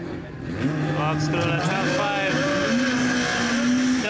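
Turbocharged 1.8 20V AGU-engined Mk1 VW Caddy with stock body accelerating hard with wheel spin, its engine note rising through climbing revs and gear changes, loud and close, with voices talking over it.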